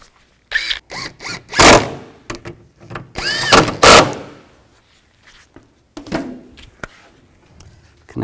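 A power tool tightens 10 millimeter bolts on a catalytic converter of a 2007-2016 Chevy Traverse, with several short loud bursts and clanks of metal handling between them, close up.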